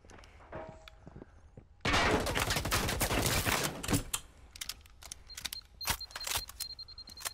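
Rapid gunfire rattles in a dense burst of close shots hitting the player in a video game, followed by scattered sharper cracks and impacts that thin out toward the end.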